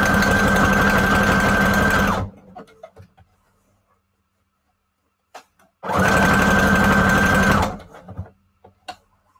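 A sewing machine stitches paper strips for a journal in two loud, steady bursts of about two seconds each, separated by quiet pauses with faint handling clicks.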